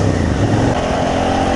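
A 2017 Suzuki SV650 V-twin motorcycle engine revs close by under a rough, uneven throttle, giving a chuffy, loud and continuous engine roar with no voices.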